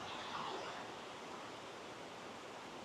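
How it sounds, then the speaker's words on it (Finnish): Steady rushing water from a Swiss waterfall, a broad continuous roar heard from a distance with no breaks, alone without voices. "Vettä tulee kuin mistä"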